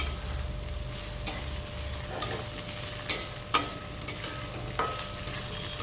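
Chopped onion and green chilli stirred lightly in hot oil for a snake gourd poppy-seed dish, giving a quiet continuous sizzle broken by a handful of sharp spoon clicks against the pan.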